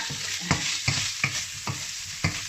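Fatty pork fries and browns in its own rendered fat for pinakbet, giving a continuous close sizzle broken by five or six regular scraping stir strokes, with no voices.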